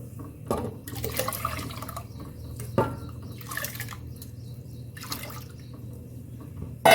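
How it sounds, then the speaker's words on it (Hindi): Kodo millet and water being poured into a clay pot on a gas stove for khichdi, with intermittent splashing and trickling pours over a low steady hum, close and fairly quiet, no talking. "इसमें ये मिलेट और पानी डाल देंगे।"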